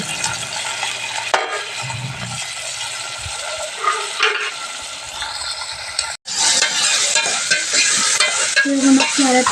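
Curry leaves, onions, green chillies and tomatoes fry in a pan with a steady, close sizzle, broken by scraping stirs and a brief pause before the frying surges louder again.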